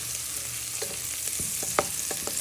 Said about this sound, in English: So at first we're just frying our shallot and garlic in with our chorizo